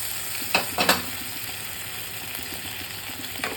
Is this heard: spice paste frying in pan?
yes